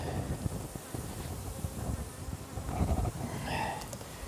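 Honey bees buzz around an open beehive during an inspection, a steady close drone with some wind rumble and handling knocks underneath.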